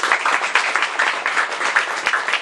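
Applause at a women's group party celebration, a continuous dense clapping from a crowd, loud and steady throughout with no talking heard.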